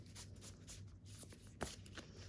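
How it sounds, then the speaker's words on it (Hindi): Playing cards being shuffled by hand before a tarot-style reading, a soft, quiet papery riffling with a few brief crisp flicks and no talking. "जब तक मैं ये कार्ड शफल कर रही हूँ"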